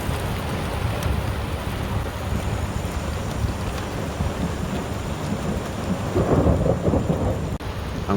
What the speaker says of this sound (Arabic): أمطار تنومة اليوم السبت 9 من شهر ذي الحجة العام 1440